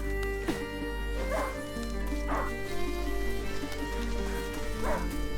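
A hunting dog in A Plague Tale: Innocence gives a few spaced barks and yips over a low droning game ambience, moderately close.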